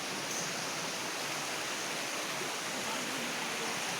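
A waterfall and stream in Bandarban during the dry off-season, a steady, even rush of flowing water that stays at one level throughout.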